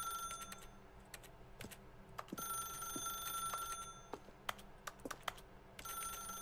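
A telephone rings repeatedly in The Stanley Parable, its bright trilling bursts recurring over a steady low room hum, with sharp keyboard-like clicks scattered between rings and no talking.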